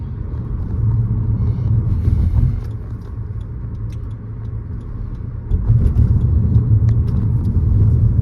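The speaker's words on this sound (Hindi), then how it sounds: "अभी देखो मेरा गाड़ी चल रहा है 53, 55 ऐसा मेरा गाड़ी चल रहा है" Interior of a car cruising on a two-lane highway at about 55 km/h, a steady low engine and road rumble that swells louder partway through, continuous and close, with no talking.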